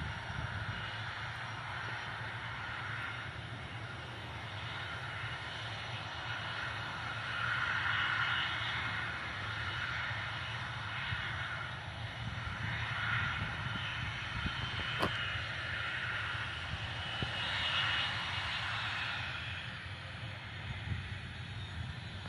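An airliner sits at Bilasa Devi Kevat Airport in Bilaspur just after landing, its engines giving a steady distant whining hum throughout over outdoor background noise.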